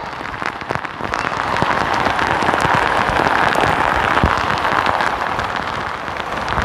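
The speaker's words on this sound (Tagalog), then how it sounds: "Lumakas bigla yung ulan." Heavy rain pours down in a loud, continuous hiss on a mountainside, with scattered heavier drops pattering on a hard surface throughout.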